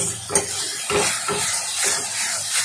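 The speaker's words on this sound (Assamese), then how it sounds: "এনেদৰে ভাজি ল'ব মছলাটো" Onion and tomato masala with ground spices frying in a pan, a steady crackling sizzle with the scrape and clatter of stirring at intervals, close and fairly loud with no talking.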